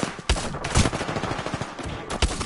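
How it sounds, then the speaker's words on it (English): Bursts of gunfire from another player in Apex Legends, several loud sharp shots and rapid volleys spread across a couple of seconds, close and punchy with no talk over them. "There's somebody shooting from outside over there"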